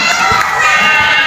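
Loud, sustained shouting and cheering from a packed basketball arena crowd, high excited voices blending into one steady roar.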